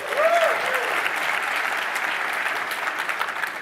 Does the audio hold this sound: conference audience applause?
yes